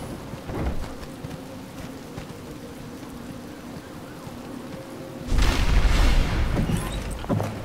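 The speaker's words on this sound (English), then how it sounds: "It's raining indoors." Rain and thunder inside a building in the video game Batman Arkham Asylum: a steady hiss of rainfall with a low rumble, then a loud thunderclap bursting in around the five-second mark and rolling on to the end.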